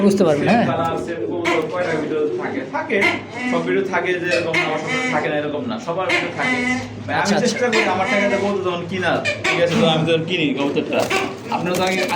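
Jira Silver Lahori pigeons coo repeatedly at a bird market, their soft calls mixed in with steady, busy talk from several nearby people.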